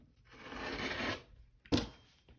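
A rotary-style cut slicing through quilting fabric on a cutting board, a half-inch strip cut: a close, steady raspy drag lasting about a second, then a short sharp scrape and light handling noise, with no talking.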